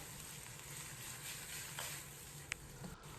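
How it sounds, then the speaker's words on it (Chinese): Napa cabbage being stir-fried with salt, sugar and oyster sauce in a wok gives a soft, continuous sizzle with a few sharp spatula scrapes and clicks, faint and close with no talking. "继续翻炒均匀，把调料全部化开"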